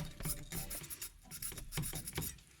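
A pipe cleaner scrubs through a passage in a 2005 Honda CRF150F carburetor, giving a steady run of close, rapid rasping strokes with a brisk back-and-forth rhythm throughout.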